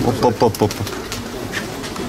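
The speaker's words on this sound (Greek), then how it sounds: "Βροχή κύριε τα περιστέρια." A quick burst of wing flapping from pigeons taking off at a pigeon club in Attica, Greece, several rapid beats up front, then fading into soft rustling.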